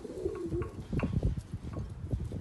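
Tumbler pigeons cooing close by, a run of soft, low, throaty coos repeating steadily over faint background noise.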